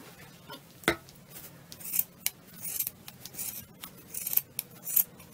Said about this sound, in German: Aber jetzt schneiden wir erstmal provisorisch zu.